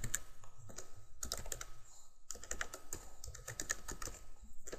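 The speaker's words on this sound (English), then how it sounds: "just come down and type if text user" A computer keyboard clacks as code is typed into a Microsoft Word login form, bursts of quick, close keystrokes separated by short pauses.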